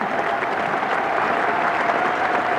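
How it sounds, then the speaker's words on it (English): A cricket crowd at Lord's applauding Australian opener Geoff Marsh's half-century in a 1989 one-day international against England, a broad and steady roar of clapping from a large stadium audience. "Splendid round of applause for Marsh, the Australian opener, who gets his half-century."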